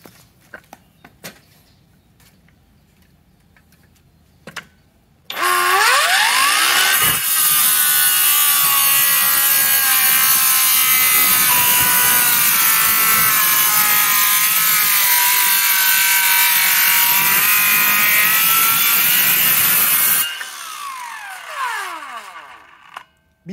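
A Ronix 8902K cordless circular saw cuts through wood in one loud, steady whining pass of about fifteen seconds, with a brief spin-up at the start and the motor winding down at the end; quiet handling noises come before it.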